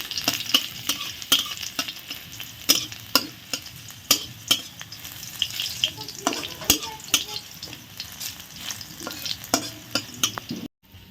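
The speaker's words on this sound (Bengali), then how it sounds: "তো এই তো এখন আমি শাক রান্না করব।" Kalmi and red amaranth leafy greens sizzle in a pan, with a frying hiss running throughout and regular scraping clicks of a spatula stirring them, close and fairly loud.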